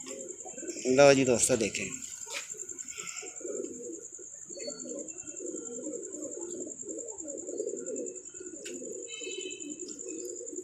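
Pigeons coo with soft repeated throaty calls under someone talking nearby, with a brief burst of louder cooing and some chirps early on and a steady high hum throughout.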